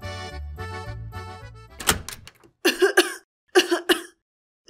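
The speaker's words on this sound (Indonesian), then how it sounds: "Aduh, batuknya kok makin parah gini sih?" A woman with a worsening cough lets out harsh, clustered coughs in two or three bursts after a short run of music and a dull thud, with quiet pauses between the fits.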